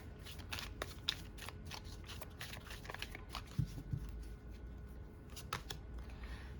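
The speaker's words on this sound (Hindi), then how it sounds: "लेकिन हम एक बार शफल करेंगे।" A deck of cards being shuffled repeatedly during a tarot-style love reading, giving quick papery riffles and flutters at moderate loudness with a few sharper snaps, alone without talk.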